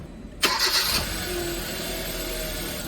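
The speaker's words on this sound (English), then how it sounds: "Let's go for a start in the car." A car engine cranks briefly and catches, settling into a steady, moderately loud idle that holds for the rest of the moment, with no voices present.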